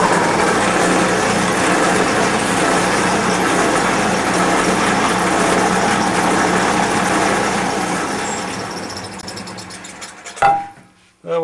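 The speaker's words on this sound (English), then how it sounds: "So let's drill these holes. Probably make some noise" A drill bores holes in wood for a cross-laminated bowl base layup, a loud, steady motor whine with dense grinding for about ten seconds before spinning down and stopping.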